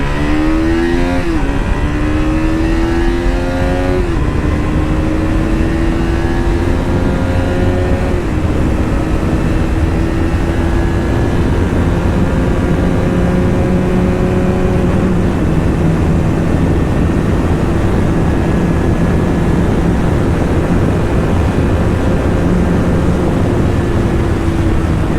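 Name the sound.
KTM RC200 motorcycle accelerating hard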